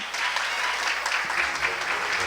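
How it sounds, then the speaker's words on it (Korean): Brief, steady applause from the audience at a trade association thesis competition award ceremony, a dense, even clapping with a few low thumps in the hall. "여러분 큰 박수 부탁드립니다"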